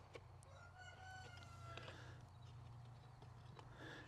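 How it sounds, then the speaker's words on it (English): A rooster crows once, faint and somewhat distant, in a quiet farmyard where geese and quail are kept. No voices are present. "And there's a rooster."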